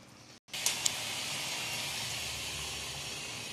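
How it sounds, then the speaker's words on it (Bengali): Doi ilish, hilsa fish in yogurt gravy, simmers in a covered pot with a steady, quiet bubbling hiss after a brief pause and a couple of small clicks, with no voices. "মাছ প্রায় আমার ফুটছে"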